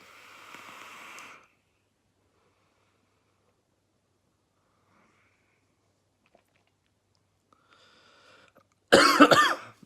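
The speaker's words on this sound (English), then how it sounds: "I've coughed one lung up" A man coughs after vaping a lemon custard e-liquid at 90 watts, with a short murmured stretch at the start, then near silence with faint rustles, ending in a loud harsh burst of coughing.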